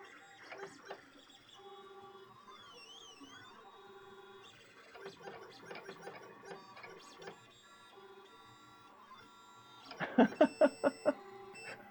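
Lulzbot Mini 3D printer running in a basement workshop, a soft whirring with rising and falling stepper-motor tones and short buzzy bursts, ending in a louder run of rapid clicking pulses.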